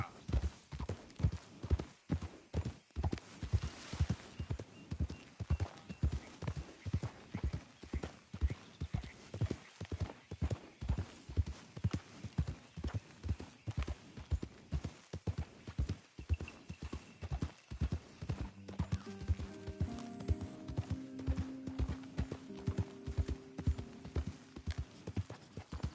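Horse hooves clip-clop in a steady, even trot in the Red Dead Redemption 2 video game, close and rhythmic for a long stretch, with a brief whinny-like tone and faint game sounds toward the end.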